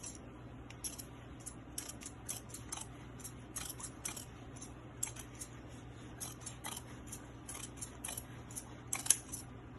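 Scissors trim excess fabric and edges from a sewn obi belt sash. Quiet, close snips and clicks repeat in an irregular rhythm over a faint, steady background hum.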